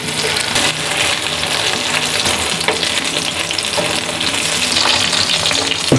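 Masala-coated fish, kaala or salmon, fries in oil on a tawa griddle with a loud, steady, close sizzle and crackle that continues without pause and with no talking.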